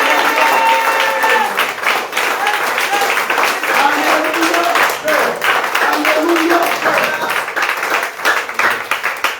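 A church congregation at a morning prayer service applauds and acclaims the Lord with loud, sustained clapping and cheering voices that fill the whole stretch without a break.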